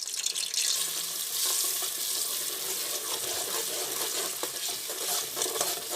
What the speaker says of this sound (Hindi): इसको थोड़ा सा भूनना है